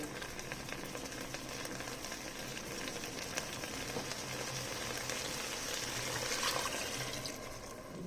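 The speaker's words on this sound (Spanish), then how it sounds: "Vamos a agregarle el medio vaso de agua en la sartén." Half a glass of water poured into a frying pan that held chicken filling for stuffed caigua, a steady close hiss and trickle of liquid on hot metal running evenly throughout, with no talk.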